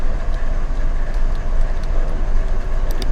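Freight train rumbling steadily in the Run8 train simulator, a dense low-frequency roar with faint clicking on top, continuous and fairly close throughout.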